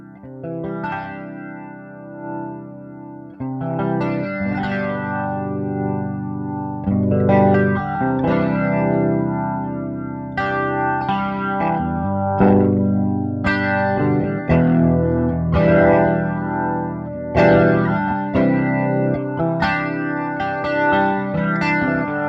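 Electric guitar through a boutique amp model in AmpliTube 5 with the gain turned all the way up, a thick saturated tone with chorus and echo, riffing in chunky repeated chords and sustained notes, no talking.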